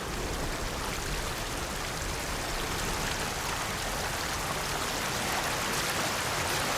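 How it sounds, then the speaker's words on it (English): A waterfall in the video game Atomfall gives a soft, continuous rushing wash of falling water, faint and unbroken, with no voices over it. "Something behind the waterfall."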